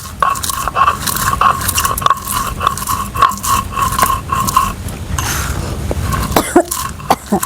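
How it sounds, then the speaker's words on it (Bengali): Fried spices being ground into powder for a crispy potato chop, a steady rhythmic scraping and knocking, close and fairly loud, running continuously with short sharp accents. "এইবার এই ভাজা মশলাগুলো গুঁড়ো করে নেবো"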